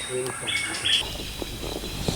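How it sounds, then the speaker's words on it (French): A large-billed African hornbill gives a few short, piping calls at moderate distance, with a faint voice murmuring underneath. "on entend le cri du calao longiband"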